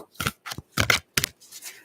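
A deck of tarot cards is shuffled in several short, close, crisp bursts separated by brief pauses.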